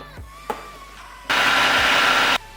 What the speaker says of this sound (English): I'm just going to take the sweet potato and put that into the food processor and blend that until it becomes a puree